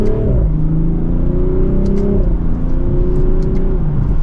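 A 2024 BMW Z4 M40i in sport mode accelerates hard in second gear, its loud engine note climbing steadily with quick, crisp upshifts breaking the rising pitch, heard alone without talk.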